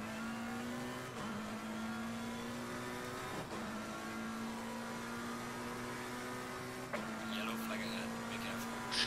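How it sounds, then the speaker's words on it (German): A McLaren GT4 race car engine in the racing game Slipstream hums in a steady high drone, dipping briefly at each gear shift, while someone talks over it throughout. "Ich fahr jetzt auch mit dem McLaren GT4"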